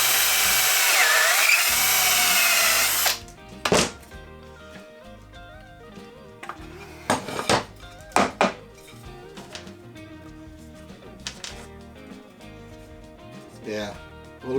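A power drill with a crooked, wobbling bit whines loudly for about three seconds, then stops. Scattered knocks and clatters of handling follow in a workshop.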